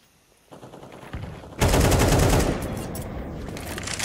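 Gunfire in Counter-Strike 2 on the Overpass map: after a quiet start, rapid automatic bursts build into a loud, dense barrage of shots, continuing steadily to the end.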